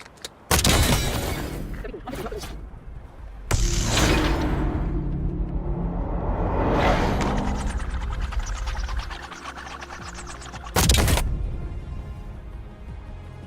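Gunfire in Black Ops 6 on the Vorkuta map: a few loud, sharp bursts of shots separated by stretches of mechanical clatter and rumble, close and without talk.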